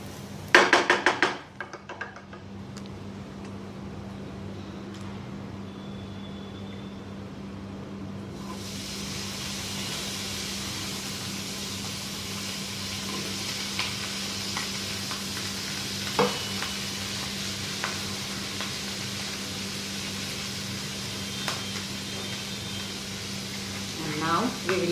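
Brinjal pieces frying with onions in a pan for an Andhra-style vankaya curry: a continuous close sizzle with occasional utensil clinks and stirring, a voice talking over it at times.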